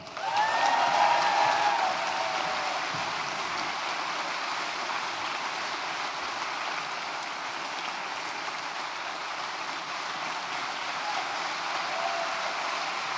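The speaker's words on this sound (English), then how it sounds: "Big round of applause for our graduates" Steady applause from a large audience at a university graduation ceremony fills the hall for the full length, loudest at the start, then settling into an even, dense wash of clapping with no talk.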